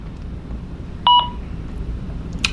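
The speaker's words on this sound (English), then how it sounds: "So now you'll hear a series of beeps that should last about 60 seconds, giving you enough time to exit the door." A single short double beep from an UltraSync security system keypad during the exit delay after arming away, clear but brief over a quiet room background, with a faint chirp near the end.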